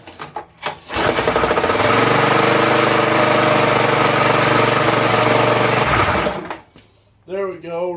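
A cheap, marketplace-bought pressure washer's small engine starts and runs on its own for several seconds, a loud, steady buzzing drone, then cuts out, followed by a brief voice.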